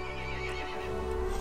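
A horse in the Resident Evil Village video game lets out a loud, drawn-out whinny, close and unbroken, over a steady eerie background hum.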